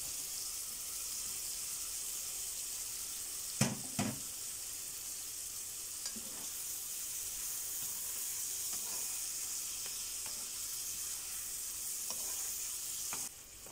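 Fresh shrimp dropped into a pan of softening onion and leek, a soft continuous sizzle and hiss with a few light scraping stirs and clicks early on, no talking.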